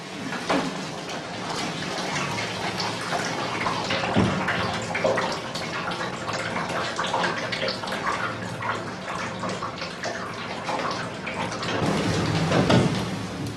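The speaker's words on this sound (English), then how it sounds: "With the help of boiling water, the rest of the wax is washed out" Boiling water pours and sloshes through a pressing cloth to wash out leftover beeswax in traditional skep beekeeping, a continuous splashing, trickling wash with occasional louder gushes.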